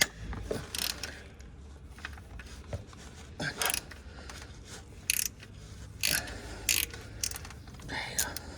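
A 15 mm ratchet clicks while loosening a bolt on the alternator of a Ford F150 with a 3.7 engine, in short irregular bursts of close metallic ratcheting separated by pauses.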